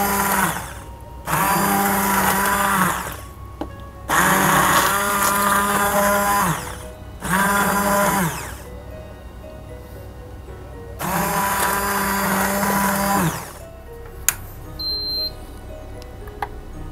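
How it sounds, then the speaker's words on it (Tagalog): A hand blender churns prawn masala sauce in a shallow cooking pot, running in four loud bursts of a few seconds each with short pauses between, its motor whine steady during each run. "Ayan na, guys, natapos nating i-blend, no? Ayan ang ating sauce."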